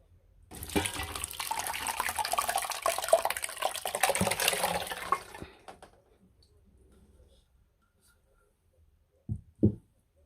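Barley makgeolli rice wine made with beet is poured and strained through a filter, a close splashing, gurgling pour lasting about five seconds, then quiet with a couple of soft knocks at the end.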